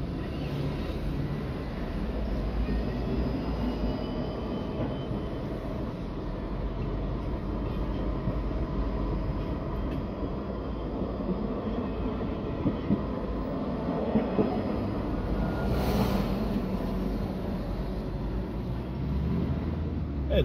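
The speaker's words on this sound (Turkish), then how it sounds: "Metro yol istiyor gördüğünüz gibi." A metro tram rolls along a street in Konya, a steady low rumble running the whole time with wheel and rail noise swelling slightly around the middle, heard from nearby amid general street ambience.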